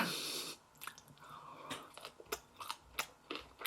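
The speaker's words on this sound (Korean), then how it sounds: "먼저 한입 먹어보겠습니다. 와사비 딱 올려가지고." Someone chews grilled pork belly topped with wasabi, soft crunchy bites and wet chewing sounds coming in irregular bursts up close, with quiet gaps in between and no talking.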